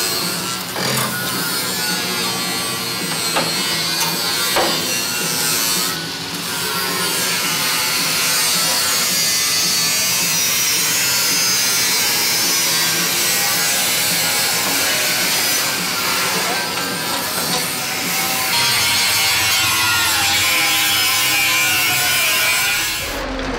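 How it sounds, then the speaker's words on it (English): Grinders run steadily in a barn workshop, a loud continuous abrasive whine that holds for most of the stretch, with a few shifts in pitch and a brief dip near the end, no talk. "Ah, the grinders have ended."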